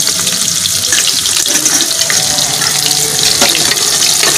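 Onion, cumin and fennel fry in a pan for veg pulao, giving a loud, close, continuous hissing sizzle with no talk over it.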